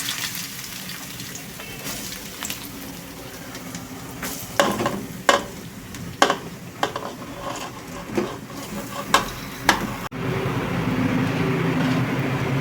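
Onions fry in hot oil for chicken curry, a soft, steady sizzle broken by repeated sharp scrapes and clacks of a spoon stirring in the pan, with a louder burst of frying near the end and a voice speaking briefly.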